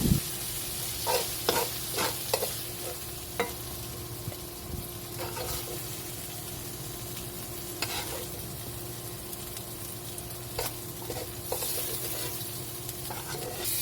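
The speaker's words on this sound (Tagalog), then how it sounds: "lutuin lang muna natin ang ating sibuyas" Onions fry in a pan for a pork chop steak, with a continuous close sizzle and repeated spatula stirs and scrapes clicking over it.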